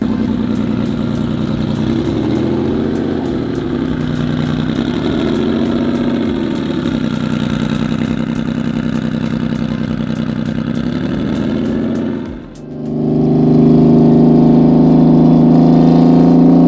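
A Subaru WRX STI running a freshly built EG33 engine idles loudly with a wavering low drone, then after a brief dip the engine note rises and holds steadier as the car pulls away, close and with no talking.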